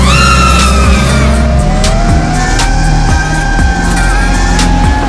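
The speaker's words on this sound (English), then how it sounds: "Oh yeah, there's a car there." A loud car engine roars close by, revving up and down with tire squeals as it passes at speed.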